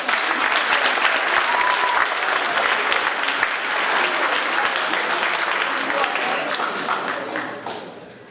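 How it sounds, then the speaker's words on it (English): Steady applause from a crowd fills the space, continuous clapping that holds throughout before tapering off at the end. "give her a round of applause"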